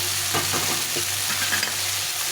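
Potato and spices frying and being stirred in a pan for a fish curry, a steady close sizzle with scraping stir strokes throughout and no talk.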